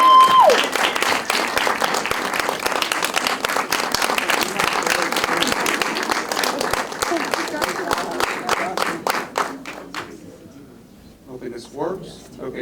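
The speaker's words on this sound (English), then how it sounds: "another big round of applause for Liz Becker." An audience applauds loudly, a dense wash of clapping that thins out toward the end, followed by a brief quiet voice.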